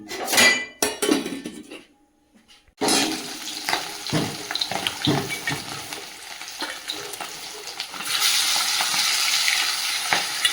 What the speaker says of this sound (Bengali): মাছগুলো এদিকে ভেজে নিচ্ছি